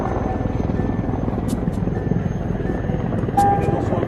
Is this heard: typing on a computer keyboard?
no